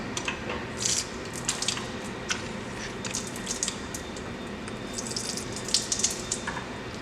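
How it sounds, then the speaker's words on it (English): Water flushing from the test cocks of a ZURN Wilkins 375 reduced pressure backflow assembly, a faint hissing spray with a few short splashy bursts over a low continuous background. "The first thing we do when we test the device is we flush and clean our test cocks."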